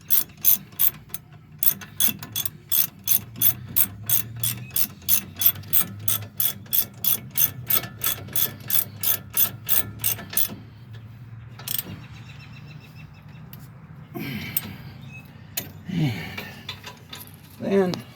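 A hand ratchet tightens a brake bolt on a 2008 Dodge Ram 1500 SLT, a long run of sharp, evenly spaced clicks close by, then slower scattered clicks and a few metallic clanks.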